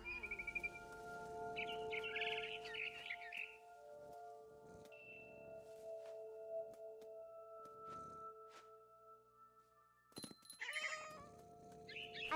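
A cat meowing in the video game What Remains of Edith Finch, with a barn swallow nearby: several drawn-out meows spread across the stretch over quiet game ambience and soft chirps, ending in a louder cluster of calls.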